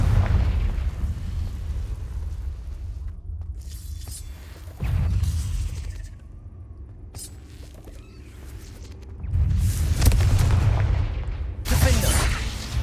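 Booming fire-spell explosions in the Hogwarts Legacy video game on PS5 Pro, heavy low blasts rolling loudly in several waves with crackling bursts between them, no talk present.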